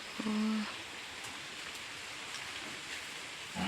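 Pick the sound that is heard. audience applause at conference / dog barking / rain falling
rain falling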